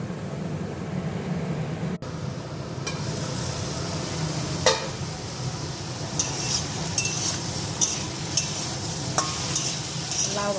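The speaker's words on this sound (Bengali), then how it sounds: "কচি মিষ্টি কুমড়ো ভাজা করব" Young sweet pumpkin fries in a pan for a home lunch, a steady close sizzle with occasional clinks and stirring scrapes of a utensil, no voices.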